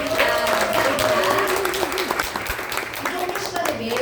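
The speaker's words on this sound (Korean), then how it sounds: "큰 박수 보내드립니다" An audience at a talk applauds, a dense, steady wash of clapping that continues at even strength throughout.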